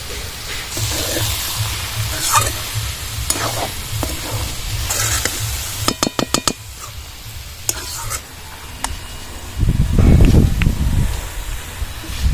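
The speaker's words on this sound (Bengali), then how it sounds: "বাঁধাকপিটা প্রায় হয়ে গেছে আর একটু নাড়াচাড়া করে নেবো" Vegetarian cabbage stirred in a hot pan, steady sizzle under repeated scraping strokes, a quick run of sharp clicks midway and a louder hissing, rustling surge toward the end; no voices.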